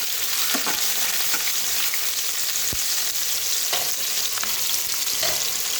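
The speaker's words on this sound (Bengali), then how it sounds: "আমি একটু কালো জিরে দিলাম আর কাঁচা লঙ্কা দিয়ে দিচ্ছি" Nigella seeds and green chillies crackle in hot oil as a tempering, a loud continuous hissing sizzle up close with a few faint stirring scrapes and one brief knock.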